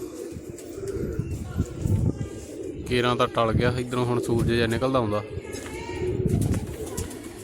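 Pigeons coo in low, soft murmurs nearby while someone talks over them outdoors.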